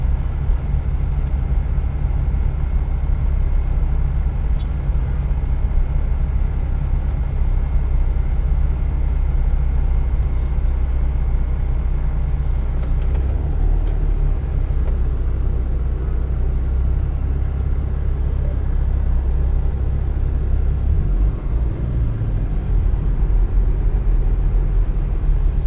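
A car drives through the streets of May Pen, a town in Clarendon, Jamaica, while turning right, its engine a steady low rumble with road noise that goes on for the whole stretch and carries no talk.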